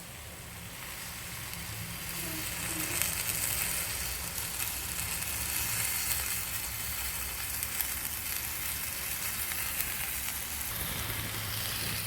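Cooking oil sizzling with chicken in a tagine, a steady, dense crackling hiss that stays even and continuous throughout, with no talking.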